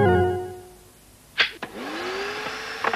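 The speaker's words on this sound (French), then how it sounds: "Ce qu'elle veut, c'est un aspirateur qui marche" A motor spins up with a rising whine after a couple of sharp clicks, settling into a steady mechanical hum.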